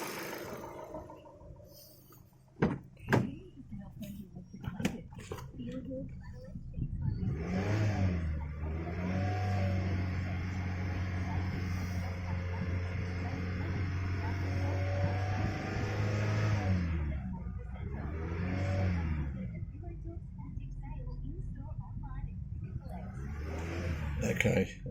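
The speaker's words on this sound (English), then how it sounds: "I'm just going to go and rev it" A Chevrolet Cruze engine with a possible water pump problem revs up repeatedly, rising and holding at high pitch before dropping back, with a steady idle between revs; close and loud, no talking.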